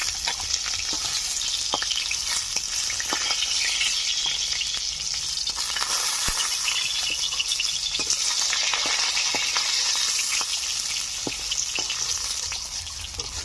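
Katla fish pieces fry in hot oil over medium heat for a Bengali fish curry, a steady dense sizzle and crackle running loud and unbroken throughout, with occasional sharper pops.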